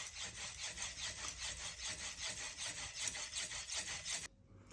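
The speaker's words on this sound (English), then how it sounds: "if you use a coarser stone like this one, it's 120, you will grind more material, it's gonna be quicker" A knife blade is stroked back and forth on a coarse 120-grit sharpening stone, giving steady close rhythmic rasping strokes that stop abruptly just before the end.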